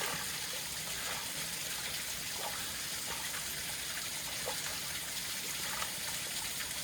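A mountain stream near Jogini Falls in Manali, Himachal Pradesh, gushes and trickles steadily nearby, a continuous watery rush without speech.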